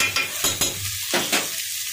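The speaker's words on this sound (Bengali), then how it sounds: "ভালো করে চালগুলি ভেজে নিচ্ছি।" Rice grains fry in hot oil with spices for ilish polao, loud bursts of sizzling scraping as a spoon turns them in the pan, a few rhythmic strokes with quieter hiss between.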